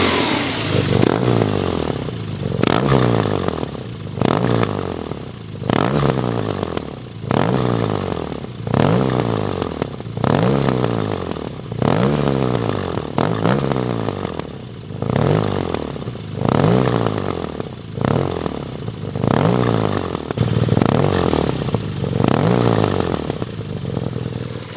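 A BMW R nineT Racer motorcycle engine runs up to operating temperature, loud and close, its note rising and falling in a steady rhythmic cycle of swells every couple of seconds.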